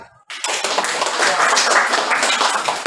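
Classroom applause from a group of students, a burst of dense clapping that starts abruptly and stays loud and steady for a few seconds.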